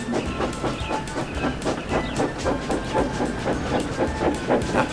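Railway yard shunting with an engine moving trucks and coaches, a steady rhythmic clickety-clack of wheels over rail joints with a faint hiss, continuous and fairly close.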